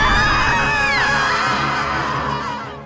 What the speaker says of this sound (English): As the bomb lands, the screams of the women echo out.